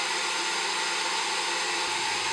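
A hair dryer on a low setting, blowing on a model pine tree for scale modeling, whirs as a steady, even broadband hiss throughout with no talk.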